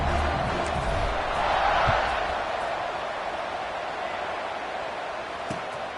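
A stadium crowd buzzes at a Syracuse versus UNLV college football game after a touchdown, a broad steady roar that swells briefly and then settles into a lower hum, with an announcer's voice over it.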